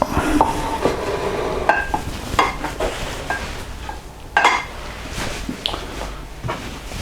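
Crockery clatters and scrapes as a plate is picked up and handled while serving home-made roast potatoes in a kitchen, a few close knocks and clinks spread over several seconds.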